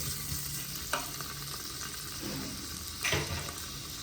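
Vegetables sizzling in heated ghee in a pan for sweet potato and pumpkin soup, a quiet steady frying hiss with a couple of stirring scrapes.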